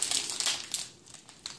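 Crinkly plastic wrapper of a Pikmi Pops toy package being pulled and squeezed open, a short burst of close, quiet crackling and rustling.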